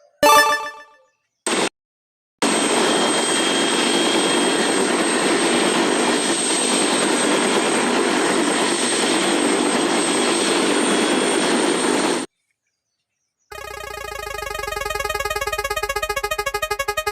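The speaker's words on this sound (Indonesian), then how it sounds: "Helikopter." A steady, loud helicopter engine drone with rotor noise runs for about ten seconds without a break in a children's spin-wheel game of vehicles, with a short sound before it and a tonal jingle after.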